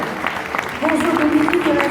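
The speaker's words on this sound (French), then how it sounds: "Tous vos applaudissements et qui nous rejoint." Audience applause at a French presentation, a brief burst of clapping with a voice talking over it as the noise swells.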